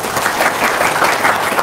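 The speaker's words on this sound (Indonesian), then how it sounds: "Tepuk tangan dong." Audience applause, a dense continuous burst of clapping from a crowd, loud and close, with no talk over it.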